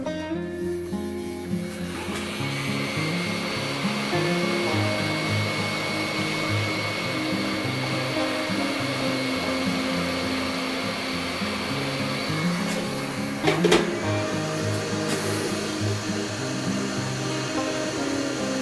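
A hot air tool heats a part while a Marantz 2238B amplifier is serviced: a loud, steady blowing hiss and whine, close and continuous, with a short knock partway through.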